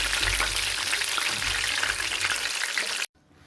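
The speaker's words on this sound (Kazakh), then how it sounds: "тек болгарский бұрышты қуырып жатырмын" Bell pepper frying in a pan gives a steady, loud sizzle that runs unbroken for about three seconds and then cuts off abruptly to near silence.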